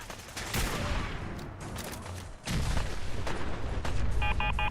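Enemy gunners firing and throwing a grenade in the video game Fallout 4: dense bursts of gunfire with a sharp blast partway through, loud and continuous, followed by more rapid shots.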